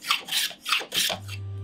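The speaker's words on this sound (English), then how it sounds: "this 102, a slightly larger block plane, is honed at a 28 degree bevel." A low-angle block plane, a slightly larger 102 honed at a 28-degree bevel, is pushed through wood in four quick rasping strokes, close and alone, followed by a faint hum.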